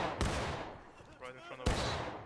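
A company of soldiers in rank fires rifles on command during a drill, two sharp loud volleys cracking out with a shouted order between them.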